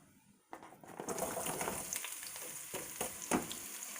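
Three medium onions, sliced, sizzle and fry in a soup pot for cabbage soup, a steady crackling hiss that starts abruptly and continues with occasional stirring clatter.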